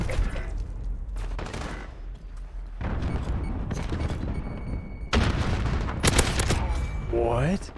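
Gunfire fired through a wall during a bomb-defusal round of a tactical shooter, with a rifle such as the RAM-7, heard as repeated loud bursts and cracks layered over dense game noise, with scattered louder volleys near the end.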